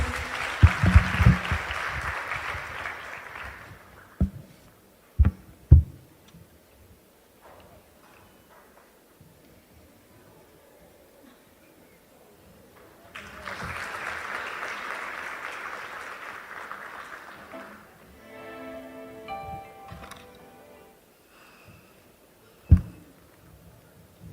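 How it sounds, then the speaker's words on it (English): An audience at a women's business conference in Thrissur claps in two separate bursts, the first a few seconds long and the second after a quiet pause with scattered thumps, moderately loud with no talk. "A huge round of applause, ladies."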